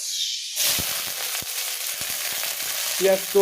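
Onion and bay leaf frying in a pan: a close, steady sizzle with a few stirring knocks, starting abruptly after a brief quieter moment.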